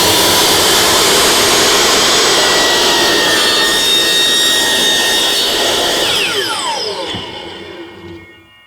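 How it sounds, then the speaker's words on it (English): A power saw cuts away plastic where the wheels rub on a 5th-gen Toyota 4Runner. It makes a loud, close, continuous high whine and grinding roar, then winds down and fades out near the end. "I'm gonna be lazy and I'm gonna use my saw here"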